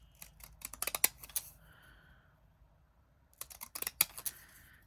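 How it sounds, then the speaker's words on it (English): Scissors snipping and spinning: two bursts of rapid, close metallic clicks and snips, split by a quiet pause with a faint tonal scrape, fairly soft overall. "Spin the scissors round and do some this way."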